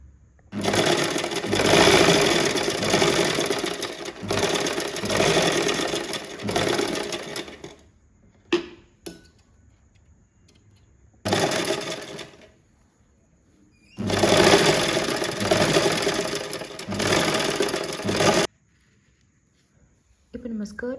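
A sewing machine stitches a double-folded skirt opening on the wrong side of the fabric. Close, steady mechanical whirring comes in two long runs and a shorter burst, with brief handling clicks and quiet pauses between and no voices.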